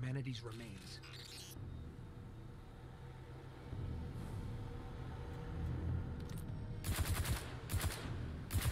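Gunfire in the Destiny 2 video game, heard as quick rapid bursts of automatic shots near the end. They rise over a low rumbling game soundscape while someone talks throughout.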